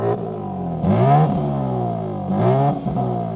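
A BMW G82 M4 in normal exhaust mode revs twice, each a smooth rising whine with a turbocharged, whooshy, vacuum-like tone over a steady idle, loud and near with no talking.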